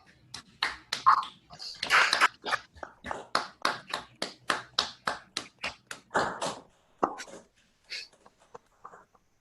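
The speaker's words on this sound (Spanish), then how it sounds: "Invito a todos a aplaudirlo, a prender los micrófonos y aplaudirlo." An online audience claps with microphones switched on after a mathematics talk on graphs and finite fields, producing sharp, fairly even individual claps in a steady rhythm that slow and fade out near the end, with faint voices.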